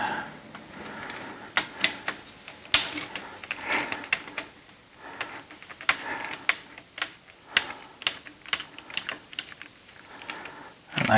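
A screwdriver turns screws out of a wind deflector mesh in close-up, making irregular small ticks, ratcheting clicks and light tapping, with quieter handling noise in between.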